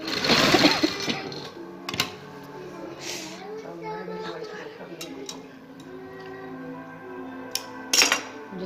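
Sewing machine stitching elastic into a shalwar waistband, running in short bursts with clinks and clicks close by, while someone talks over it.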